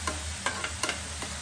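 Shevla wild greens cooking down in oil in a pan, with steady sizzling and a few short stirring scrapes, close and continuous.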